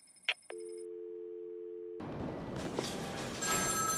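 Telephone in Batman: Arkham City: a short electronic chirp, then a sustained steady ringing tone, after which the scene opens into a broad noisy background with a few faint clicks.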